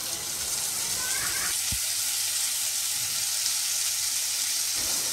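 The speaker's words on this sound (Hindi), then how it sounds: "अब हम इसमें फ्राई किए हुए प्रॉन्स ऐड करेंगे।" Fried prawns hit a hot pan, giving a continuous, even sizzling hiss that holds steady throughout, close and alone.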